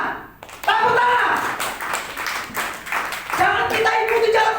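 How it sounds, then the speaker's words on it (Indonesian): A church congregation claps its hands in a loud, dense patter that starts abruptly and keeps going, with voices mixed in under it. "Tepuk tangan, tepuk tangan."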